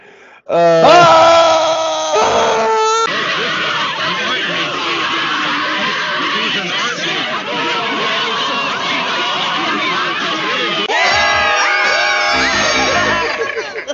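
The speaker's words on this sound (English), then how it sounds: "And there's a second of me screaming again afterwards." A recording of people screaming plays loudly and without pause: a crowd wails and yells in a dense, sustained mass, and a single voice cuts in with sharp, shrill cries at the start and again near the end.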